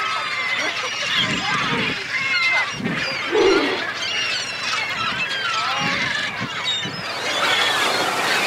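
Humpback whales bubble-net feeding in Alaska give a series of wavering, honk-like tonal calls rising and falling in pitch, repeated over several seconds, with talk heard alongside.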